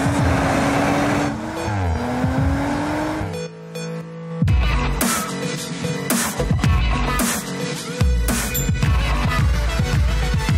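An Audi RS 5 Sportback in dynamic mode revs and accelerates hard, with engine roar, shifts and tire noise layered over music throughout.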